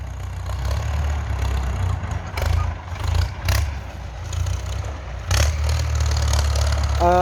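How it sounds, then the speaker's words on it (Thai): A Ford farm tractor running after an oil change, a steady low engine drone with clattering and occasional sharp knocks and scrapes, fairly close and loud, with no talk. "รถไถฟอร์ดเข้ามานี่"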